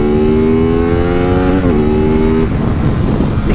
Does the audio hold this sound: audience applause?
no